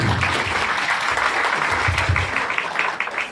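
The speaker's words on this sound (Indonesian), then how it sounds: "Kasih tepuk tangan dulu untuk Dr. Richard." An audience claps for Dr. Richard at a BiogreenScience presentation, a full room of steady applause that tapers off toward the end.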